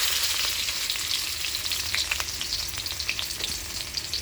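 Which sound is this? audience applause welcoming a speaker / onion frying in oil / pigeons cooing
onion frying in oil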